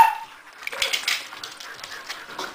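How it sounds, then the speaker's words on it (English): A pet dog barks indoors, giving a few quick, fairly faint barks over light room noise. "Riley, you don't need to bark"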